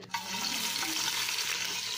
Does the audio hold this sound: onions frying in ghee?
yes